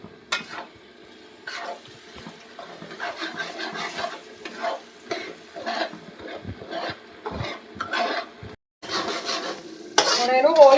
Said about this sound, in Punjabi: ਸੂਜੀ ਨੂੰ ਆਪਾਂ ਨੇ ਭੁੰਨਣਾ ਹੈ